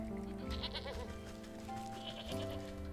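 A sheep bleats in the video game Wytchwood, a short wavering call over steady game music.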